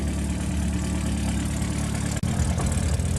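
A simple four-cylinder engine of an early French utility van from 1913–1925 runs at a steady idle, a constant close low rumble with one brief dropout partway through.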